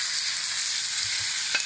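Raw, unseasoned chicken sizzles in olive oil in a frying pan, a steady dense hiss throughout with a few soft knocks as the pieces are stirred, close and continuous.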